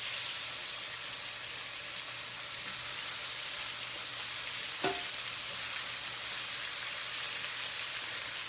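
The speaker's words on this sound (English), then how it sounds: "do you hear that sizzle?" Chicken sears in a hot pan with a steady, loud, crackling sizzle that holds evenly throughout, broken by one brief scrape or tap midway, and no one speaks.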